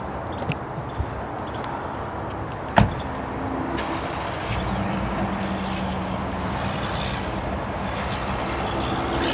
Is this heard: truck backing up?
yes